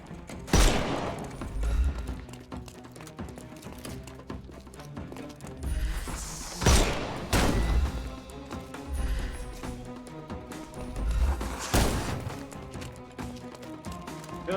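Gunfire in the Sherlock Holmes Chapter One video game during a fight in Hive territory, with irregular bursts of shots over a busy, clattering backdrop of movement and action sounds.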